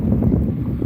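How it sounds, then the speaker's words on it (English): Wind gusts outdoors and buffets the microphone, a loud low rumble that rises and falls, with no talk. "I know it's a little windy in this area."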